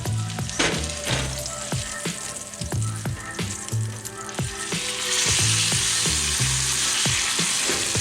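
A 60-day dry-aged sous vide ribeye sears in a pan with pressed garlic, a bright continuous sizzle with rhythmic low thumps and clanks, the hiss swelling louder partway through.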